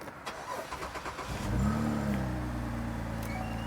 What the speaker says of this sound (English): let's start the engine first.